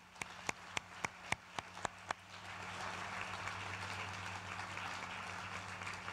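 Audience applause at a groundbreaking presentation for a brain performance institute, starting as a few sharp separate claps and swelling into steady, sustained clapping from a crowd over a low hum.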